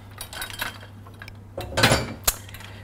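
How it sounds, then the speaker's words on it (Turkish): Kitchen utensils clink and rattle as a ladle is picked up from among them while making a mock water börek, a few light metallic taps, then a louder cluster of clatter and a sharp clink, fairly close. "kepçemi aldım"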